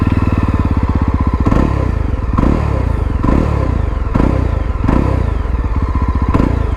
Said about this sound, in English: So let's hear the sound of the exhaust.